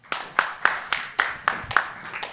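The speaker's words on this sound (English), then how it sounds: "a round of applause for him" A sparse round of audience applause at an energy industry forum as a sales executive takes the stage, individual sharp claps sounding at a slow, even rhythm, close and distinct.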